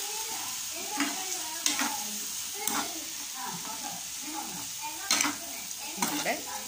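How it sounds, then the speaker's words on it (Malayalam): Cauliflower for a pepper fry is stirred in a hot frying pan, with a low sizzle and repeated scraping, clattering strokes of the spoon at an uneven rhythm, close by. "നല്ലതായിട്ട് ഇതൊന്ന് ഇളക്കി കൊടുക്കാം"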